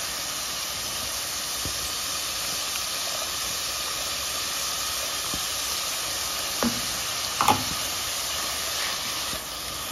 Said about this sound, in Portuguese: Vou mexer, deixar dar uma fritadinha aqui, ó, nessa misturinha de verdura